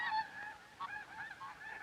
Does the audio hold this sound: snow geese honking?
yes